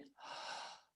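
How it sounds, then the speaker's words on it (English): A single deep inhale through the mouth, close and breathy, rising quickly and holding steady for most of a second before fading, as part of a relaxation breathing exercise. "Deep breath in"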